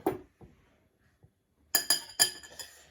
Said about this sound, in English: Now we're going to stir them up.